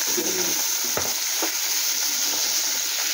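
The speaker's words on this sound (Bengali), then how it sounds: "এদিকে মাছ ভাজা হচ্ছে" Fish fries in hot oil in a home kitchen, giving a loud, steady, close sizzle throughout, with a few brief scraping stirs breaking through.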